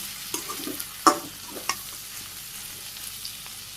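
Malabar spinach with garlic stirred in a pan in a Bangladeshi village kitchen, faint scrapes and clinks of the spoon over a low frying sizzle, a few sharper knocks standing out.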